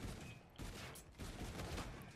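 Rapid gunfire in Call of Duty: Infinite Warfare, dense bursts of shots in quick succession with brief gaps, quiet and compressed.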